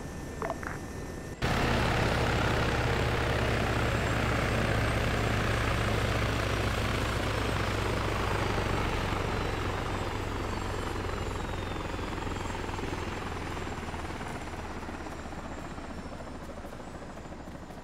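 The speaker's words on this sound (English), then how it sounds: "This is Havoc pulling to a hover at the end of the taxiway, awaiting your safe landing." A video game helicopter hovering at the end of an airfield taxiway, a loud continuous rotor and turbine drone that starts abruptly and holds steady, slowly easing off, with no voices.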